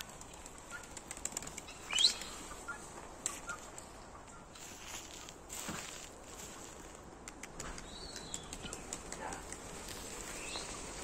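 Pigeons flap their wings in a loft, with a burst of loud flapping near the start and scattered softer wing claps and rustles after it, over a quiet background.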